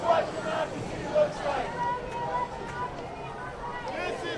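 A crowd of about 600 people at a refugee rally and march in New York City, heard as a broad murmur of voices and distant shouts, with speech running over the steady babble.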